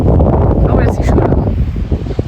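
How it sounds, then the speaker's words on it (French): Strong wind buffets the microphone with a loud, continuous low roar on a high, exposed spot in Hangzhou, China, while voices speak faintly underneath. "Il y a du vent de 500"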